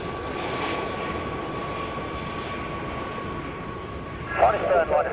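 Aircraft flying in formation at an air show give a steady, broad engine roar with a faint whining tone, and a commentator talks over it throughout.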